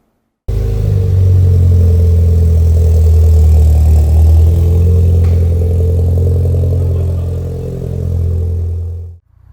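A turbocharged Audi TT quattro engine starts up loudly and holds a deep, steady rumble, rising slightly as the car pulls away in first gear, then cuts out abruptly.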